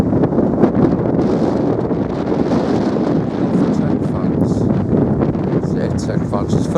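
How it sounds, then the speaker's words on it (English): Strong wind blusters outdoors near a town hall, a steady loud roar with gusty rustling throughout, with a voice speaking faintly underneath. "the wind's getting terrible"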